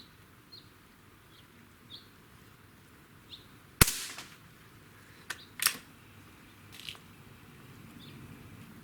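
Beeman AR2078A CO2 target air rifle firing outdoors, one sharp crack with a short burst of gas, then a few fainter clicks and pops against a quiet background with faint birdsong; no speech.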